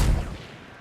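A single gunshot in the video game Fortnite, a sharp, loud boom with a short, fading tail.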